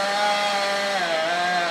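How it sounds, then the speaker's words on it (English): A steady, high buzzing saw whine drones continuously, slightly shifting in pitch, from a nearby lumber mill cutting wood. "we're right next to a lumber mill here"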